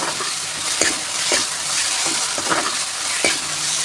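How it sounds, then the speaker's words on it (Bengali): Chicken sizzles steadily in a pan with ginger, garlic, cumin and chili paste for Bengali chicken kosha, with about five sharp spoon scrapes of stirring cutting through the close, continuous hiss. "এবার দিয়ে দেবো আদা রসুন জিরে লঙ্কা বাটা। এবার ভালোভাবে কষিয়ে নেব।"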